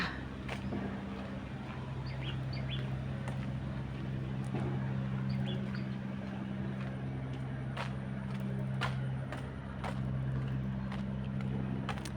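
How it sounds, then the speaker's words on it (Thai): A cargo boat on the Chao Phraya River drones with a low, steady engine hum from a distance, while sharp clicks and faint chirps sound over it. "เสียงเรือนะคะเสียงเรือ"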